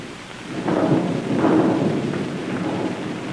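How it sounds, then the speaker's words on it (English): Thunder rolls through a storm with rain, two broad swelling rumbles in quick succession over a steady wash of rainfall, fairly near and full. "thunder and lightning"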